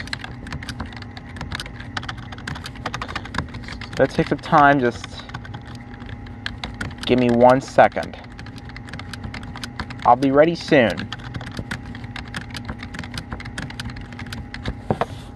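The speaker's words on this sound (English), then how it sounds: "Just typing it in right now" Rapid clicking of keys on a computer keyboard comes in short bursts, with a person speaking briefly between them.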